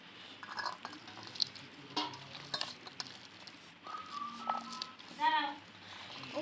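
Boiled dried peas seasoned with turmeric and salt fry in oil, giving a quiet sizzle with scattered stirring scrapes and light pan clinks, while faint voice-like sounds drift in the background.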